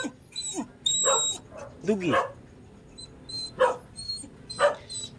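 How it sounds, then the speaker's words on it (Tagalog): A pet guard dog at a Filipino home yips, whimpers and barks in short bursts, with a person talking and calling to it over the sounds. "May aso pala na ako dito ah."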